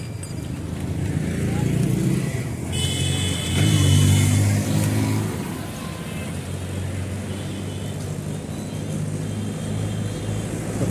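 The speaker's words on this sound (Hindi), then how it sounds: "ट्रैफिक भी काफ़ी जाम लग गया" Cars and motorcycles crawl through a traffic jam in Hoshiarpur, Punjab, during an evening storm, with engines rumbling and revving nearby under steady wind noise and a passing horn-like tone.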